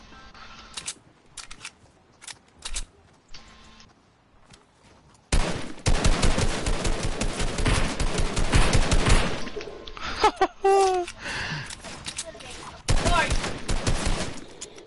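Sustained automatic gunfire in the shooter Fortnite: sparse clicks and isolated shots at first, then a long, loud, dense barrage of rapid fire, a brief pause, and another intense burst toward the end.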